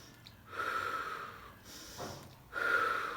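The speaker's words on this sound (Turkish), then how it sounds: "Hep birlikte burnumuzdan nefes alıp ağzımızdan veriyoruz." Breath drawn in through the nose and let out through the mouth, done as a calm breathing exercise in a nursery class for three-year-olds; two or three soft, airy breaths, close and gentle, with no talking.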